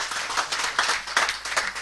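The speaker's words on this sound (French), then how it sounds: "On applaudit très fort, on applaudit très fort." A crowd at a charity auction event applauds loudly, dense continuous clapping with a few surging peaks over about two seconds, close and full.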